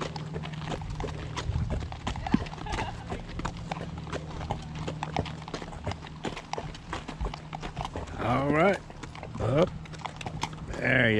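Horse hooves clip-clop steadily on a trail ride through Garden of the Gods, Colorado, close and continuous, with a short whinny and snorts near the end and occasional voices.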